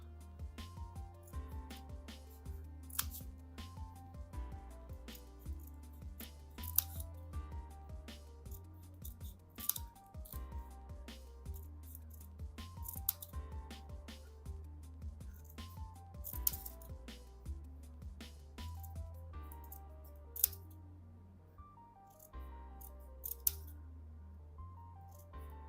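Scissors snipping paper for a Christmas tree craft at an art workshop, a series of short crisp cuts in an irregular rhythm over a quiet background, close and moderately soft, with no one speaking.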